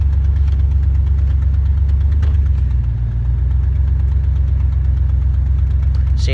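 The engine of a 4-wheel drive vehicle idles steadily and close up, with a loud, even low rumble and a slight knocking texture that runs the whole time without a break.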